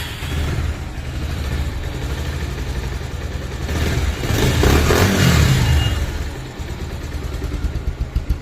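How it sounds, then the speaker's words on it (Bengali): A 2022 Bajaj Pulsar 150 cc motorcycle idles with a low, steady engine thrum, swells into a throttle rev that peaks and falls back, then returns to a choppy, pulsing idle, heard close without talk. "ফ্রি অ্যাক্সিলেটারের সাইলেন্সারের সাউন্ড, ফ্রি অ্যাক্সিলেটারের ইঞ্জিনের।"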